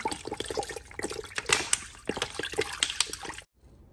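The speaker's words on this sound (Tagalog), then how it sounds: "lagyan lang natin ng tubig" Water pours and splashes into a pan of capsicum and ground beef in uneven gushes for a few seconds, then stops abruptly, leaving quiet.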